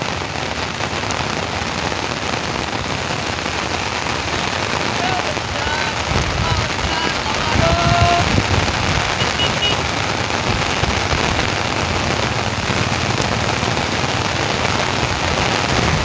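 Heavy first rain of the season pours steadily onto a flooded village street in Bajud, a dense continuous hiss of drops on surfaces, loud and unbroken throughout with a brief heavier swell midway.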